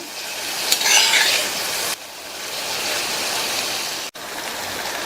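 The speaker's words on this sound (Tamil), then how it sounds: "ஒரு ரெண்டு நிமிஷம் நல்லா வதங்கிட்டு இருக்கட்டும்" Masala powder cooks with water in a pan, making a loud, steady, rushing sizzle close by, with a brief sharper burst near the start and a momentary drop later.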